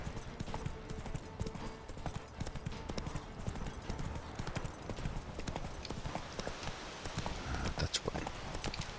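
Roach, a horse in The Witcher 3, gallops with steady, rhythmic hoof clip-clops beneath a constant outdoor bed of game ambience, with a brief spoken remark partway through.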